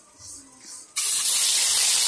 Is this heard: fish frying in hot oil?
yes